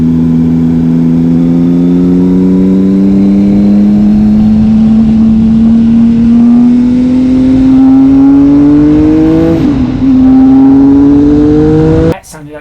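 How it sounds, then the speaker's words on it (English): Triumph Speed Triple 1050 S with an unbaffled SP Engineering exhaust revs loud and close, its deep engine note climbing steadily over twelve seconds with a brief dip and a sharp pop near the end. "proper sort of MotoGP World Superbike sound, a bit of backfiring"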